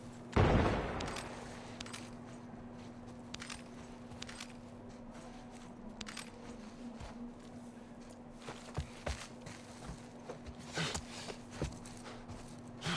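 Gunfire in The Last of Us Part I opens with one loud, close shot, followed by scattered quieter pops and clatter over a steady low hum.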